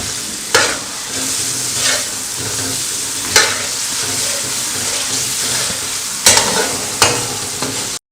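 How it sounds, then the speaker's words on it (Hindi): Chicken sizzles steadily in a hot pan while a utensil stirs it, with several distinct scraping knocks standing out above the constant frying hiss. "अब हम इसमें चिकन डाल देंगे।"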